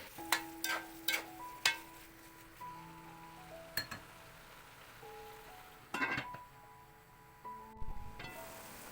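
Grated carrots for an ikra salad fry in a pan while being stirred, with a faint sizzle under sharp clinks of a spoon against the pan, in a quiet kitchen.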